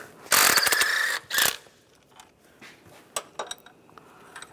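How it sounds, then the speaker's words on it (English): A ratchet fitted with a 15mm socket loosens the engine mount bolts on a 2010-2016 Cadillac SRX, giving two loud, close bursts of clicking followed by a few fainter metallic taps. "Now we're going to take these 3 bolts out. I'm going to use a 15mm socket."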